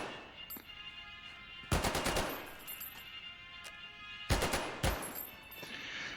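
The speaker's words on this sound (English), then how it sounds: "So I'll click the button in for the fast fire. Get down on the gun." A mounted machine gun in Medal of Honor: Above and Beyond fires on fast fire in two loud, rapid bursts of about half a second each, separated by a few seconds of quieter game ambience.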